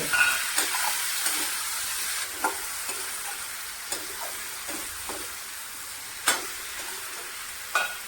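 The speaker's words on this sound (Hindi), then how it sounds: "अब फिर से हम ऐसे इसको चला लेंगे" Moringa paratha mixture being stirred in a pan on a low flame, with faint, sparse scrapes and taps from the spoon over a soft, steady sizzle.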